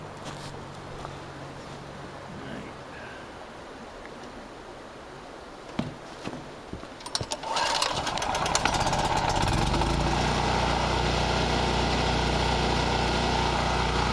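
A small petrol pump engine pulled into life after a few rattling tugs and sputters, then settling into a steady, loud, buzzing run that continues to the end.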